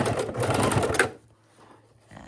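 A sewing machine stitches in the ditch around the center block of a quilted potholder, running close and loud for about a second before stopping, followed by faint handling noise.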